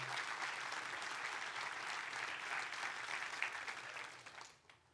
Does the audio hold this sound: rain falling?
no